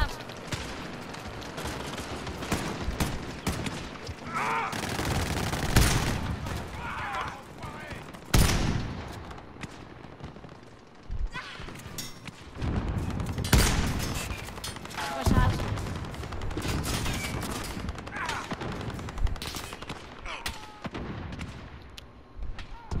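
Enemy gunfire in Call of Duty: Modern Warfare, with repeated loud bursts and fusillades of shots, some heavy booming blasts, spread across the whole stretch among game sounds and occasional speech.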